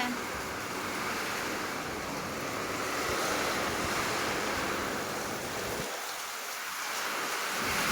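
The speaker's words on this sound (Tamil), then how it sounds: "செம மழை இன்னைக்கு, பின்னுது மழை" A heavy downpour makes a constant, roaring wash of noise, close and loud throughout with a slight dip near the end, and no voices.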